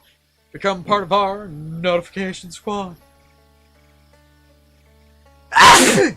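A single loud, close sneeze bursts out near the end, following a stretch of talking and a few seconds of near silence.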